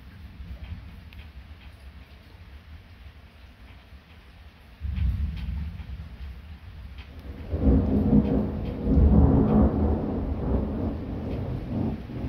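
Distant thunder from a storm to the south starts as a low rumble, then builds into louder, longer rolling booms that linger to the end, with rain steady underneath.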